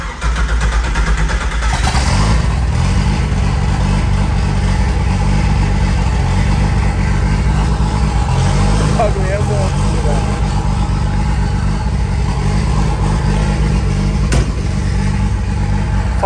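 A Chevrolet Caravan with a reworked engine rumbles loudly and steadily throughout, with a brief rev near the start, while people talk over it.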